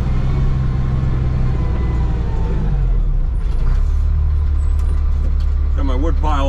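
A truck on a farm rumbles loudly and steadily close by, its low engine drone dropping in pitch partway through, with a brief burst of higher mechanical whine near the end.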